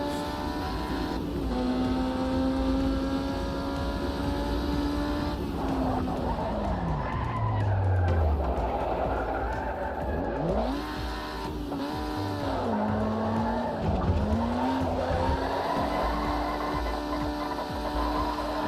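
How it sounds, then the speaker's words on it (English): A race car in a racing video game slides and skids across gravel, loud engine whine rising and falling with sweeping pitch bends and scraping tire noise throughout, no voices. "Oh, sliding. just about kicked out of the gravel."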